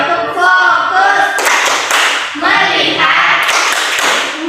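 A class does the 'tepuk fokus' clapping chant, voices calling out in rhythm with loud, sharp clap bursts between the chanted words, close and energetic.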